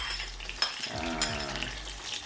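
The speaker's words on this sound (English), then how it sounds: "And then wait for the oil to boil. We go ahead to introduce the onion," Green onion dropped into hot cooking oil sets off a sudden close sizzle and a burst of crackling, with a clatter of the pan or utensil, over about two seconds.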